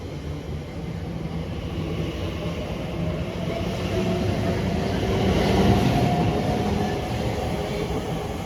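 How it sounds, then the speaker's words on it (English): An Elizabeth line train on the Great Western Main Line in London pulling out of a station, a steady close rumble and rolling roar that swells toward the middle, then eases slightly, no talking. "Departing now is the 1323 Elizabeth line service from Maidenhead to Abbey Wood."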